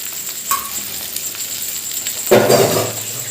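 An omelette frying in a pan gives off a steady close sizzle, with a light clink early on and a louder burst of spitting and crackling near the end.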